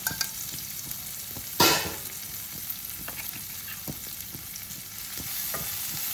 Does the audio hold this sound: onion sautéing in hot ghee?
yes